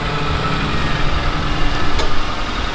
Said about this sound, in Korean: 차 시동 걸어봐요 원격으로